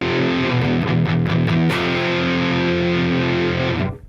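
Electric guitar played through an OCD-style distortion on a Line 6 Pod Go multi-effects unit: a few sharp picked hits, then a sustained, heavily overdriven chord ringing loud and alone before it is cut off cleanly by a noise gate.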